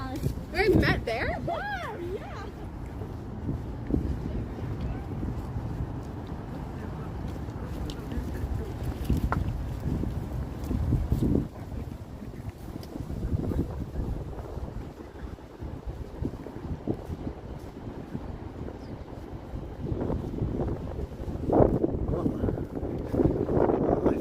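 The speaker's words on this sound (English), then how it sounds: "found some wind." Heavy wind buffets the microphone throughout a walk through North York Centre and Old Willowdale in Toronto, a steady low rumble of gusts that rises and falls, with someone talking now and then under it.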